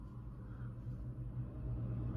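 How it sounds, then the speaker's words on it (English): A loud truck rolls past on a nearby road, its deep engine rumble holding steady and building slightly over a couple of seconds, with no talk over it. "that was a loud truck"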